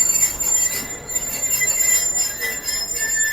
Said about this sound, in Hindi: 26 डाउन भावोदीन जिक्र एक्सप्रेस भी आ चुकी है